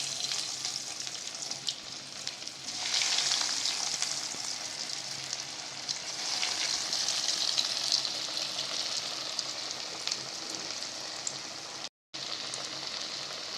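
Veg cutlets sizzle and fry in hot oil in a pan, a steady close crackling hiss that holds throughout, with only a very brief break near the end.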